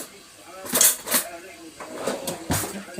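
A metal spoon clinks a few times against a pot while tomato paste is stirred into cooking beans with meat, sharp bright taps scattered amid soft background noise and talk.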